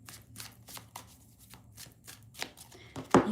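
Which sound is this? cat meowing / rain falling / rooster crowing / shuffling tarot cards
shuffling tarot cards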